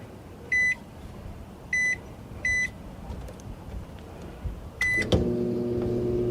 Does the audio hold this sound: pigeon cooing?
no